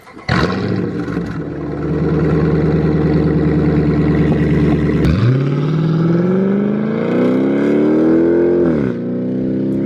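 A Dodge Charger engine roars near and loud, holding a steady rumbling idle-rev before climbing in pitch through a long rev and dropping off at the end.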